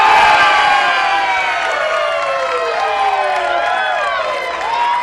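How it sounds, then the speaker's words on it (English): Golf tournament crowd cheering at a girls' event, a loud, close roar of many voices with high excited shouts and whoops rising and falling, plus scattered clapping throughout. "The big cheering section here."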